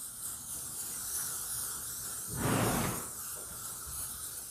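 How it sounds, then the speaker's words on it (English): Aerosol sunscreen sprayed onto a white horse's coat: one short, soft hiss of spray lasting under a second, close by, standing out over a quiet outdoor background. "So I'll spray sunscreen all over her white."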